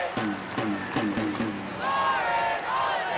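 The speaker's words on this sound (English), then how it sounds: "Crowd chanting Lauren Holiday." A stadium crowd at the 2015 NWSL Championship women's soccer final, FC Kansas City against Seattle Reign, chants a player's name in rhythmic, repeated beats, then swells into a louder roar.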